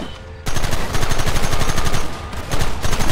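Rapid, continuous rifle and gun volleys ring out in Red Dead Redemption on PS5, a loud dense fusillade of overlapping shots that erupts abruptly after a brief pause and keeps firing without talk.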